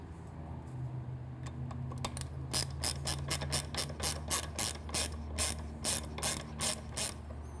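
A ratchet with a 10 mm socket turning a nut on a Triumph Street Twin motorcycle exhaust during a drag pipe install, with quick clicking strokes that settle into an even run of sharp, close ratcheting bursts.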